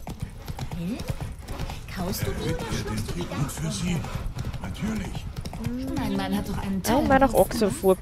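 Horse hooves clip-clop at a steady walking pace in the video game The Witcher 3: Wild Hunt, with a whinny near the end and someone talking over it.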